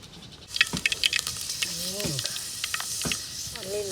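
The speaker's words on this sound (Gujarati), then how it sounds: "લસણ નાખવાનું વઘારવાનું" Garlic sizzles and crackles in hot oil on an outdoor clay stove, a soft hiss with small pops, while a voice murmurs briefly in the background.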